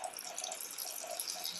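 Around 100 ml of milk pours steadily into a pot of sweet rice and banana kheer, a close, continuous liquid trickle lasting a moment with no talk.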